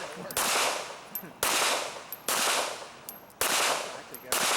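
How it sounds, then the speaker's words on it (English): Pistol fire at an IDPA shooting match on an outdoor range, with four sharp, loud gunshots at roughly one-second intervals, each followed by a decaying echo, and no talk over them. "engage each target with 2 headshots"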